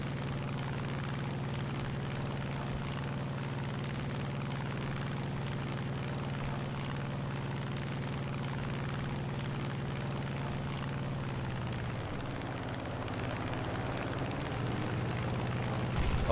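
P-47N-15 Thunderbolt piston engine in the War Thunder flight game, a steady, fairly quiet drone with a constant low hum that shifts pitch slightly near the end.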